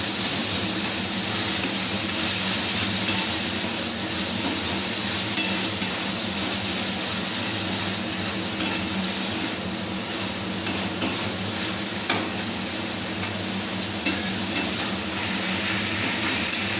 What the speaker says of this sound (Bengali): এবারে শাকটাও ভাজা হয়ে গেছে